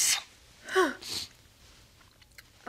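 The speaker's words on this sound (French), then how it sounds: "Tu vois, tu éternues" A person sneezes in a few short, sharp bursts close by, with a brief breathy catch between them and quiet afterwards.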